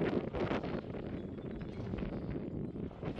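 Wind buffets a smartphone microphone outdoors during a camera test of a Xiaomi 14 and Samsung Galaxy S24, a steady, rough rumble that fills the whole stretch with no pause.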